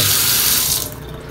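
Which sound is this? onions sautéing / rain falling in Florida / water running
water running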